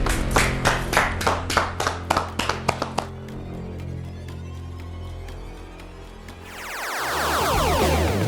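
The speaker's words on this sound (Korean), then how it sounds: "축하드립니다. 박수." Clapping in a classroom to congratulate an elderly student who solved a math problem: a burst of sharp, rapid claps for about three seconds that trails off, followed by a low background hum.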